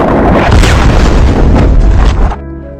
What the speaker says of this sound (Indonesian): sniper Kapten Zhou langsung melesatkan tembakannya begitu melihat gadis tersebut sendirian di atap rumah